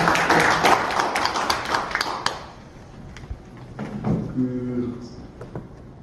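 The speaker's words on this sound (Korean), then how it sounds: "박수 드리겠습니다." An audience at a parliamentary discussion forum claps briefly. The sharp claps fade after about two seconds, and a speaker begins talking with some light tapping and handling noise around him.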